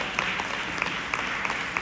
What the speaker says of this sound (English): let's give my mom a round of applause